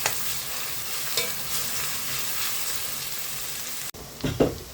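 Steady hiss of onions sizzling in a hot pan for tomato chutney, with occasional scrapes of stirring and a brief louder clatter near the end.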